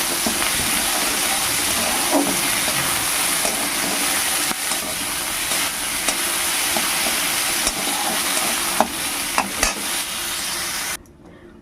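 Steady, loud sizzling of small shrimp frying in a little oil in a kadai, with occasional pops and utensil clicks, ending abruptly.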